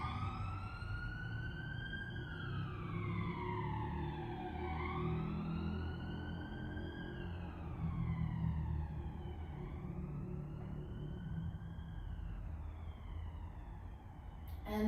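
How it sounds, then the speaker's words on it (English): An emergency vehicle siren heard from a distance, wailing up and down in repeated slow sweeps over a low background rumble, fairly faint and steady throughout. "sending my thoughts and my love to whoever that siren is for."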